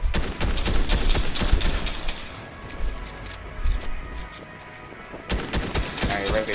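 Rapid assault rifle fire in a video game, loud dense volleys of sharp cracks that thin out midway and then resume in a fresh close burst near the end.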